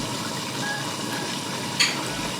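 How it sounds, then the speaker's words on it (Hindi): Red chili powder, dried coriander, turmeric and cumin roast in a hot pan with a steady, close sizzle and soft stirring scrapes, one brief louder clink near the end. "बस अब इसको अच्छी तरह इसका कलर चेंज होने तक हम खूब भूनेंगे इसको"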